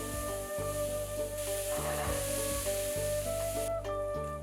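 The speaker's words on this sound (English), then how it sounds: "Use the remaining oil to fry onions, garlic, carrots, celery, and white mushroom." Onions, garlic, carrots, celery and white mushrooms fry in leftover oil in a pan, giving a loud, continuous sizzle with brief stirring breaks and no talking.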